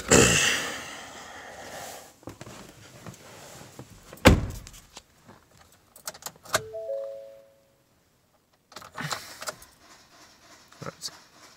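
A 2019 Ford F150 Cobra Jet with a 5.0 engine gives sharp clicks when cranked, alongside a loud thump, scattered knocks and a short tonal chirp, all close by with long quiet gaps between.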